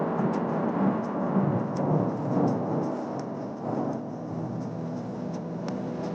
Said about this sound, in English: the top of the mountain sure ain't the best place to be when it's thundering and lightning.